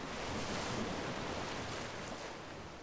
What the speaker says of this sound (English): We like to come down here and sit by the ocean, listen to the waves.